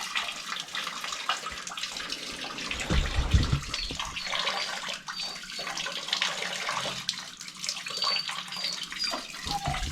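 Water gushes out steadily during a Navien water heater flush and pipe repair, a continuous close rushing and splashing stream with a brief heavier surge partway through.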